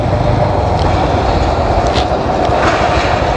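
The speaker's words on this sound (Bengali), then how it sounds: "ওই যে ট্রেন যাচ্ছে, এই কিছুদিন পরপরই ট্রেন আসা যাওয়া করতেছে।" A train rolls past a road in rural Bangladesh, a steady loud rumble and rattle of wagons filling the whole stretch without pause.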